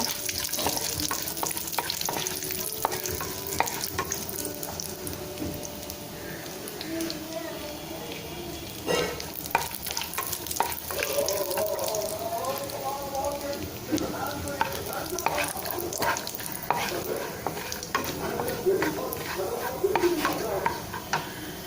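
Pistachios roasting in a pan for papaya halwa, with a spoon stirring and scraping steadily over a soft, continuous sizzle, close and fairly loud for about twenty seconds.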